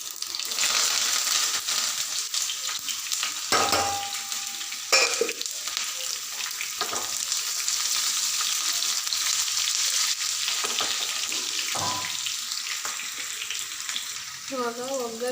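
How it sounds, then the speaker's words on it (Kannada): Mustard seeds splutter and crackle in hot oil for a tempering, a dense, steady sizzle with scattered pops running throughout, close and fairly loud, with no talking. "ಇವಾಗ ಸಾಸಿವೆ ಹಾಕ್ತಾಯಿದ್ದೀನಿ. ಚಿಟಪಟ ಅಂತ ಇದೆ ನೋಡಿ."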